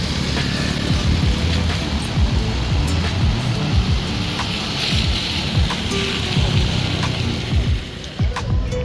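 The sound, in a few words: rain starting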